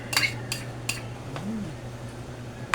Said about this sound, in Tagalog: At umpisahan na natin ang haluan.